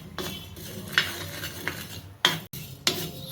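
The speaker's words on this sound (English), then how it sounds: "Now we will roast this little bit." Cumin seeds dry-roasting in a pan on an Indian kitchen stove, heard as a few sharp utensil clinks and knocks with soft scraping between them, close and moderately loud, with no voices.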